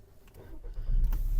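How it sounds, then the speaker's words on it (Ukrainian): A Skoda Octavia 1.6 MPI petrol engine with 193,000 km cranks and catches near the end, rising into a steady low rumble after a quiet start with faint mechanical clicks. "Давайте запустимо двигун."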